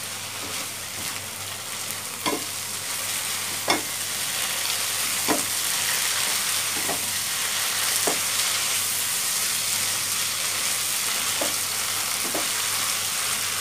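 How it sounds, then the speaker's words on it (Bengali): Okra and onion curry with chopped tomato and two green chilies sizzles and fries in a pan, with a steady hiss and a series of soft spoon-stirring knocks spread through the clip, no voices. "দুটো কাঁচামরিচ দিয়ে দিব, দিয়ে আমরা ভালো করে নেড়ে দিব।"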